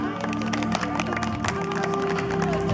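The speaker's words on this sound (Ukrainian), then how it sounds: "Давайте підтримуємо аплодисментами" Audience clapping at an outdoor dog show on a hot day, steady dense applause mixed with crowd noise, a tonal hum and some voices underneath.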